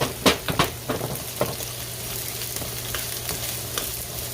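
Vegetables for Jamaican callaloo and saltfish sauté in a pan over medium-high heat, giving a steady soft sizzle with several sharp stirring clatters near the start and a few more scattered later.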